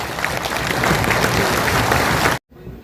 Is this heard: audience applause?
yes